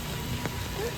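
Rain falls steadily outdoors in Dhaka as a dense, even hiss of drops across the whole stretch, with a faint brief tone rising above it.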